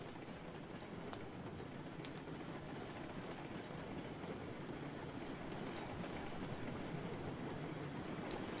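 Steady rolling rumble of a train running on rails in the Railroad Online video game, a continuous moderate drone with faint clicks, no talk over it.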